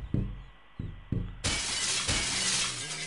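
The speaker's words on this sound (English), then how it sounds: "But the window's been smashed in the shop there." Window glass shatters in the video game Project Zomboid, a loud crash and spray of breaking shards that follows three heavy thuds against the pane.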